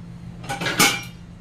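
A 22 cm stainless steel frying pan with a lid, handled in a home kitchen; a few short metallic clanks and scrapes of cookware over quiet background, one sharper knock in the middle.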